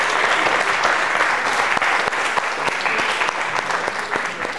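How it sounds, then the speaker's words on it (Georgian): Lively applause breaks out from a student quiz show audience for a contestant, a dense burst of many hands clapping that tapers off slightly at the close. "აპლოდისმენტები გიორგის"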